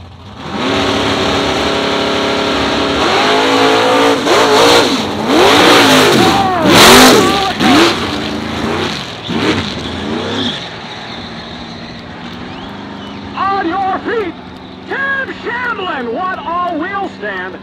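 A 1969 Chevy C10 pickup with a 565 big-block engine launches down a drag strip. The loud, roaring acceleration rises in pitch and then fades as the truck pulls away, with an announcer talking over much of it.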